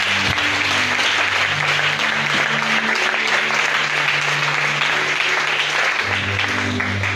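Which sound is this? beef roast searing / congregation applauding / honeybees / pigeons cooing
congregation applauding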